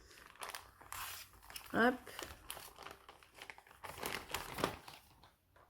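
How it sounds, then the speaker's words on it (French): A box cutter slices open a parcel, giving soft crinkling, scraping and tearing of packaging with one sharper rip in the middle, all quiet and close, with a voice speaking briefly. "Je prends mon cutter pour ouvrir le colis"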